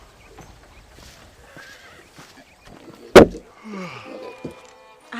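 In the Red Dead Redemption video game, a horse gives a single sharp, loud neigh amid quiet hoof clip-clops and soft ambient game sounds.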